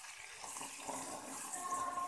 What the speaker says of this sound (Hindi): अब इसमें हल्का सा पानी डालेंगे।